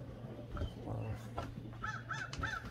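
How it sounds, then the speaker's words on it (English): Crows cawing outdoors near a pigeon loft, three or four harsh caws in quick succession toward the end, moderately distant over a low hum. "I hear the crows again."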